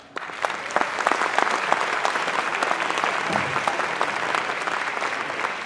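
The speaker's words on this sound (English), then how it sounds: "So do me a favor, give a good round of applause for Jordan Wright." A convocation audience gives a warm round of applause welcoming a speaker, starting abruptly and holding steady as dense clapping with crisp individual claps, plus a brief low murmur midway.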